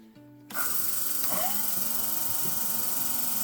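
A sharpening machine convexing the blade of curved grooming shears kicks on suddenly and holds a steady, loud, high electric whine, with faint grinding scrapes as the blade touches the wheel.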